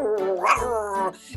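A voice actor imitates a dog bark with a single drawn-out, harmonic yelping bark that rises and falls, close and loud.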